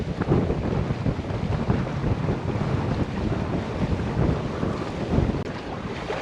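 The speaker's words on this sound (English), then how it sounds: "Yeah, breeze on." Steady strong wind buffets the microphone while a sailboat moves across Bras d'Or Lakes in Nova Scotia, with water rushing along the hull beneath a continuous roar and no talking.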